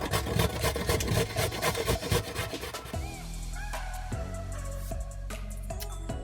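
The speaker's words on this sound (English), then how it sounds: "I'm just going to grate up 1 carrot" One carrot rubbed against a grater in a home kitchen, a rapid rasping scrape in quick strokes for a few seconds, then quieter clatter of kitchen items, close and without talk.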